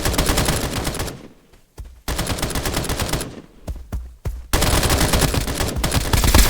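Loud bursts of automatic gunfire from a weapon in the video game Escape from Duckov, firing in several long volleys separated by short gaps of near silence.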